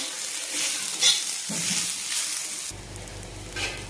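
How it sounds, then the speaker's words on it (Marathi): Crushed onion frying in oil until golden for mutton curry: a bright, steady sizzle with stirring strokes, shifting midway to a lower, denser fry with faint spatula movement, no talk. "ह्याला पण चांगलं सोनेरी कलरवर आपल्याला भाजून घ्यायचं तर भाजून घेऊ आपण"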